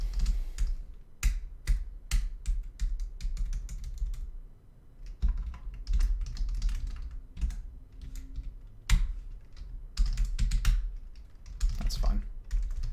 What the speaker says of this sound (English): Oh my gosh, this keyboard is dying.